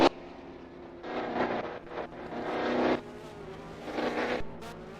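GTI race cars at a track, engines swelling and fading in several passes, some near and some farther off, with no talk over them.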